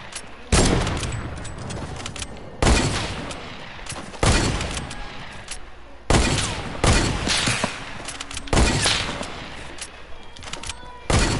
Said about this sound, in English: This is a sniper battle.